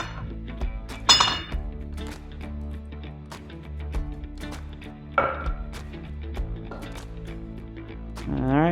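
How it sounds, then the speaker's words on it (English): Metal rods clink and tap against a custom wooden doggie door frame as they are threaded into the top, sharp scattered ringing hits over a steady background hum, with a voice talking throughout. "I'm going to put my rods in here. Go ahead and thread them into the top as well."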